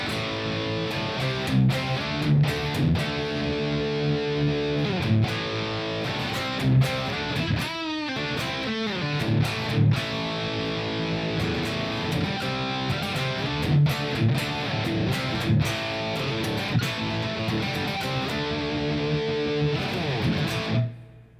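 An electric guitar played through a Fender Mustang Micro headphone amp with a vintage tremolo and reverb setting. Sustained strummed chords pulse rhythmically and ring with a reverb tail, ending with a brief decay.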